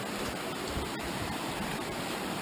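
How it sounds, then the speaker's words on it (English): Water pours down Upper Gnat Creek Falls in a dense, steady roar of broadband rushing noise, close and continuous with no voices. "This is our first look at the Upper Gnat Creek Falls."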